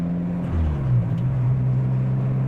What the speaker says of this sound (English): that complete exhaust ends with the Blitz Muller spec muffler, which you might have heard already because it's making a lot of sound